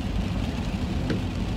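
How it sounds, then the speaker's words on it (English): Rain falls outside on the first day of spring as a steady, even hiss and patter that fills the clip alone, without a break or a voice. "it's raining"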